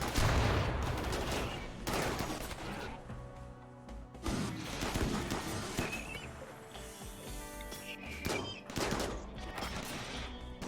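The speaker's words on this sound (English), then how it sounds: "we are laying in the support fire to try to take this centipede down" Support gunfire rattles at a centipede in the video game RimWorld: repeated bursts of rapid shots and heavy impacts that come in waves, loud and close throughout.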